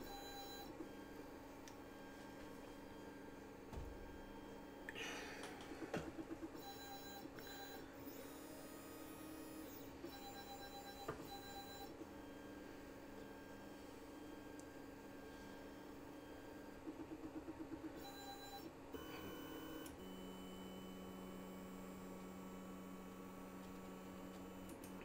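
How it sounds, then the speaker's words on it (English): A 3D printer runs its calibration routine, giving a long steady mechanical hum with stepper-motor whines that shift pitch. Brief clicks and short buzzing moves come and go, quiet and close, with no voices. "let's pull this 3D printer up real quick."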